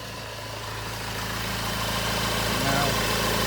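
A Honda Civic 2.2 i-CTDI diesel engine idles after a tensioner repair, giving a steady, fairly quiet low hum that rises slightly in level.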